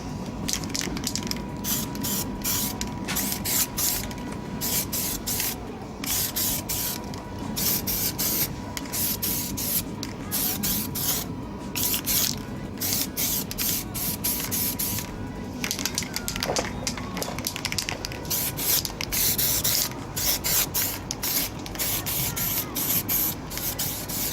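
An aerosol can of grey high-build primer sprays onto Mini Cooper headlight surrounds in repeated long hissing bursts with short pauses between them, close and fairly loud, with no talking.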